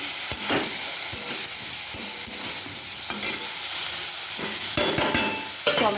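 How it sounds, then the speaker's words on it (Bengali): Potatoes stirred and fried with spices in a pan, a constant sizzle broken by repeated sharp scrapes and clatters of a spoon against metal, close up. "মশলা দিয়ে ভালো করে আলুটাকে নেড়ে নিই।"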